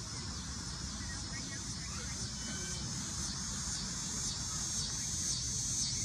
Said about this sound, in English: And again, you can hear crickets.